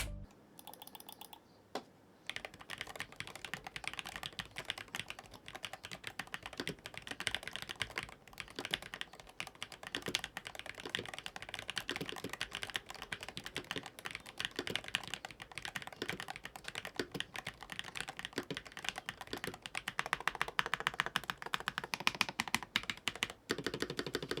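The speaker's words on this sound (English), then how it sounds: "here's a little sound test with the keycaps and the switches on the keyboard" Rapid, crisp typing on a MadLions Nano68 Pro mechanical keyboard clatters steadily without pause, close and clear, with a brief quiet moment at the start.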